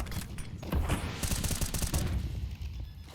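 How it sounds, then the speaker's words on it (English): Rapid bursts of gunfire in a Counter-Strike match on the Ancient map, dense and overlapping with loud booming shots through most of the stretch, then thinning toward the end, with no voices. "These pistols doing some solid work here for Undefined."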